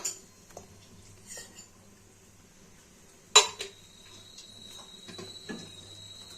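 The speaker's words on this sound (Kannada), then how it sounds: "ಇವಾಗ ಇಲ್ಲಿ ಕುಕ್ಕರ್ ಇಟ್ಕೊಂಡಿದ್ದೀನಿ ಕುಕ್ಕರ್ಗೆ ಎಣ್ಣೆ ಹಾಕೊಂತ ಇದ್ದೀನಿ" A pressure cooker set down on a kitchen stove gives one sharp metallic clank midway, followed by a smaller clink. Faint crackle and quiet room hush surround it, with no talking.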